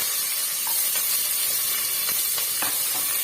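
Onion, green chilli and curry leaves sizzle steadily in hot oil for a mutton kulambu, a continuous bright crackling hiss with faint stirring clicks, close and alone.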